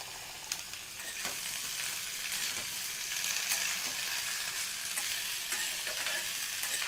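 Thinly sliced potatoes and onions frying in a pan, a dense continuous hiss and sizzle with faint stirring clicks, close and steady throughout with no talking.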